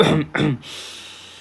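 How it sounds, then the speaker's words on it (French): Two quick, harsh coughs close together and near, followed by quiet. "Toussez."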